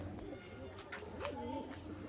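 Pigeons coo softly as a container of grit is offered to them, the low cooing running steadily beneath a voice.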